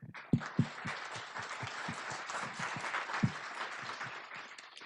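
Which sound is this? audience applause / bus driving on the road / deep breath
audience applause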